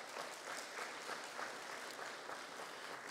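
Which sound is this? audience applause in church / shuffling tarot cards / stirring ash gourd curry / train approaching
audience applause in church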